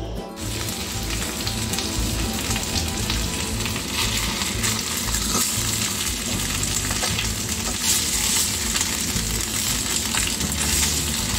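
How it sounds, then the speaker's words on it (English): Shrimp, radish and scallop pan frying for radish cake: a steady, loud, dense sizzle and crackle that runs unbroken from start to finish, with occasional stirring scrapes and no voices. "Just pan fry."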